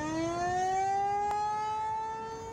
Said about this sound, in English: The primary purpose of the outdoor warning siren system is to alert those that are outside to seek shelter immediately.